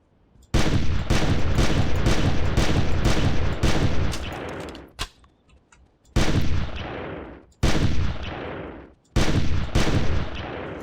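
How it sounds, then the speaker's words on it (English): Heavy shotgun fire in the dinosaur-hunting game Carnivores+ comes in long, loud, dense bursts separated by short gaps, each blast rolling into the next before cutting off abruptly. "it basically had to use the shotgun for distance gunning"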